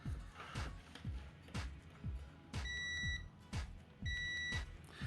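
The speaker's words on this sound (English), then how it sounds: "It does have that nice audible beep in diode mode." A cheap multimeter in diode-test mode gives two short, steady, high-pitched beeps under a background of rhythmic low thumps and rustling, with the beeps coming about a second apart.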